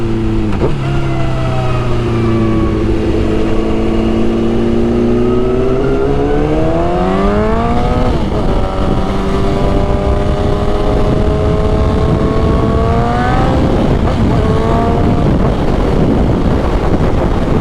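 Motorcycle exhaust pipes rise and fall in pitch through downshifts and upshifts, a loud, continuous engine note with wind buffeting the microphone during a ride.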